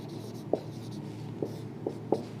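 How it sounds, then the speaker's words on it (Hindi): Writing on a board during a classroom lesson: four separate short taps and scratches spaced irregularly over a quiet room hum, fairly close and moderately loud. "तो मैं यहां पे लिख देता हूं स्टिमुलेट्स"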